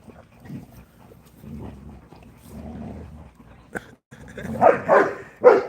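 Presa Canario dogs bark at a breeding kennel: a few soft grunts and whines come first, then a run of loud, close barks bursts out near the end.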